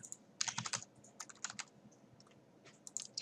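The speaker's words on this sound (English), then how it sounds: "Typing is really hard today." Quiet typing on a computer keyboard, bursts of rapid key clicks with short pauses between, close and soft, with no one talking.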